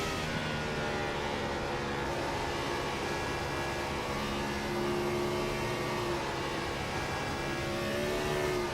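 Sustained whine of a NASCAR Gen 4 race car engine in the iRacing video game, steady and loud, with slowly shifting pitch as it accelerates, no talk.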